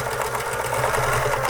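A thrift-store Pfaff 360 sewing machine runs steadily, its motor humming under a fast, even needle clatter that stays loud and continuous throughout with no pauses or talking.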